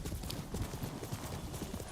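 Hooves clip-clop steadily from a horse in a samurai video game, a brisk even rhythm of close, moderately loud hoof beats running the whole time with faint talk underneath.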